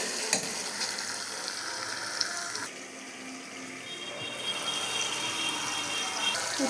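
Chopped tomato pieces frying in oil with chilli powder for vangibath, a steady close hiss of sizzling with a brief drop partway, then the frying swells again, with occasional light stirring clicks.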